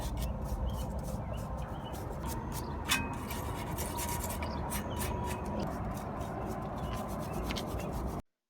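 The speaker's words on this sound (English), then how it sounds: "Use a brake cleaner to clean the caliper, and as well as a wire brush to remove the dust." A wire brush scrubs brake dust off a car's brake caliper, making rapid, repeated scratchy strokes at close range, fairly quiet and steady until an abrupt stop.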